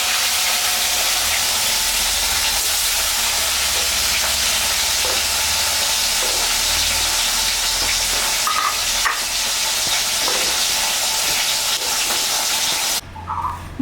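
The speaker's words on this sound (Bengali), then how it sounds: "মাছ ভাজা তেলের উপরে আমি শুকনো লঙ্কা দিয়ে দিলাম, কালো জিরা সম্বরা দিলাম।" Dried red chilies and nigella seeds sizzle in leftover mustard-style fish-frying oil, a steady broadband crackle and hiss holding close and loud throughout, with faint stirring clinks and a brief drop near the end.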